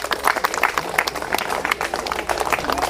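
An audience claps for Kavi, a scattered, uneven burst of hand claps that rises and falls for a few seconds, moderately loud with no voices over it.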